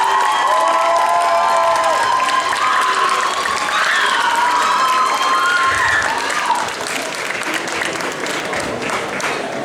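An audience at a cosplay contest applauds and cheers, with high excited shouts and whoops over steady clapping, loud and close throughout.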